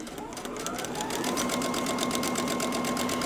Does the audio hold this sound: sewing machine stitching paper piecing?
yes